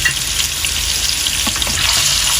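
Potatoes sizzle and crackle steadily in a hot pan on the stove, a loud, dense frying hiss that continues throughout with a few soft stirring knocks.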